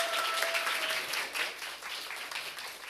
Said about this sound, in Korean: 여러분 큰 박수와 환호로 맞아주십시오.